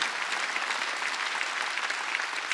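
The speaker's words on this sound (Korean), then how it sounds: "박수야." A church congregation at a Korean Wednesday worship service claps steadily together, a dense, even patter of applause that continues throughout without any speech.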